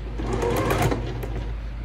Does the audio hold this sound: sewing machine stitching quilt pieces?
yes